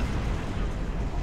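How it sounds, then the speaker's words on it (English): Dense, roaring battle noise from the Halo Reach video game, with enemy gunfire and explosions merging into one continuous loud rumble that fills the whole short stretch. "Taking enemy fire!"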